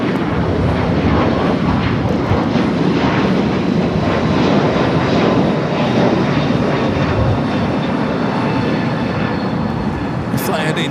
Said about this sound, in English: Fly heading to Chicago here in a 2-year-old A321neo